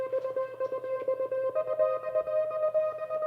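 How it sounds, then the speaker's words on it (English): A Vanguard synth pad chopped by a trance gate into a rapid rhythmic stutter, a sustained tone pulsing on and off evenly, fairly quiet and heard alone. "I've added what's called a trance gate to it, and that's it's a type of arpeggiator"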